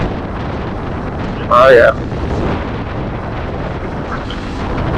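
Strong wind buffets the microphone during a motorcycle ride on an expressway aboard an NK400, a constant loud rushing roar, with a short burst of speech rising briefly above it.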